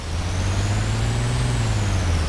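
BTR armoured vehicle in ArmA 2 with a loud, low, steady engine drone and a faint rising then falling whine above it, running close by with no voices.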